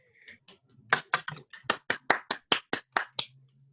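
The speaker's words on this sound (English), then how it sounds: "let's round of applause for Jenna." A short burst of light applause over a Zoom call, a dozen or so crisp claps in quick rhythm, thin and close.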